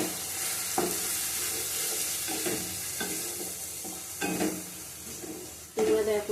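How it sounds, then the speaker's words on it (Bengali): Spices with Kashmiri chili powder and salt sizzle while being sautéed and stirred for rui fish curry, a steady fry hiss broken by repeated scraping stirs with a few louder clatters near the end. "ভালো করে কষাবো"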